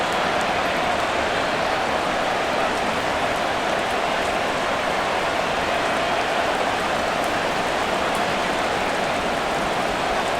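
Steady, dense rain falls in a Madden NFL 24 football game between the Dallas Cowboys and Carolina Panthers, a continuous loud hiss of drops with no breaks or other sounds.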